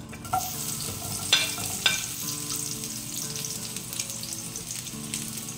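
Onions sautéing in cooking oil in a pan for a Filipino taro-stem coconut dish, a steady crackling sizzle with a few sharp clatters of stirring, close and moderately loud, no voices.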